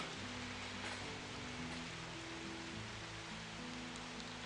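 Steady rain hisses as a dense, even wash of noise in the background of a tabletop game session, quiet and constant, with low droning music tones underneath and no speech.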